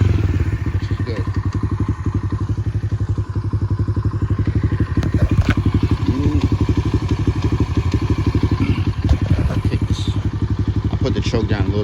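A pit bike engine warms up on choke, idling loud and close with a rapid, steady thumping pulse and occasional clatter; a voice is faintly present over it.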